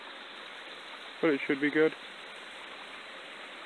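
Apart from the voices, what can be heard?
small mountain creek water flowing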